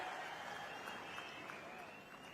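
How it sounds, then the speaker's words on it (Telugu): A large audience at a political rally claps in a continuous wash of applause, which stays fairly distant and even and eases off slightly toward the end. "గట్టిగా చప్పట్లు కొట్టి స్వాగతం పలకండి"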